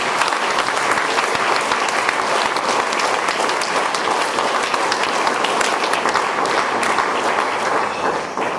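A church congregation at an Armenian worship service breaks into loud, sustained applause, dense clapping filling the room evenly from start to finish.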